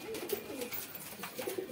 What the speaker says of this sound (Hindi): और बाकी अपने कबूतर ये रहे।